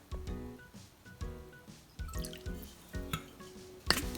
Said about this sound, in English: I'm going to add 1 tablespoon of vinegar